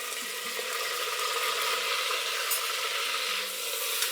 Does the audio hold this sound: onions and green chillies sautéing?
yes